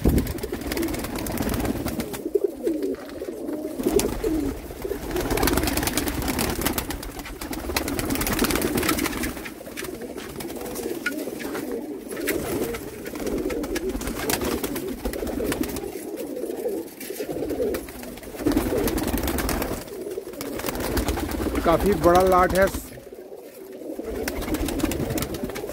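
Pigeons for sale in Jammu coo continuously in a loud, dense chorus of low throaty calls, with a brief voice speaking near the start and occasional wing flutters.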